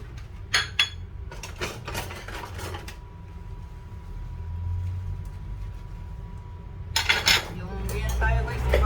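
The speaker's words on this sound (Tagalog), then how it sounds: "Hugas muna ng mga plato," Plates and cutlery left from a meal are washed, with clinks and clatters near the start and again toward the end over a steady low background hum.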